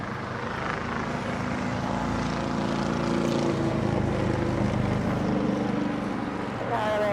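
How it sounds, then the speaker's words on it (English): A Boeing 787 Dreamliner at LAX readies for departure on runway 25 right, its engines a steady loud low roar and whine throughout, with radio chatter faintly mixed in. "the Dreamliner getting ready for a departure on 25 right"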